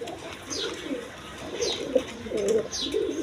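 Kaldom pigeons give soft, repeated coos close by, in a few rhythmic bursts.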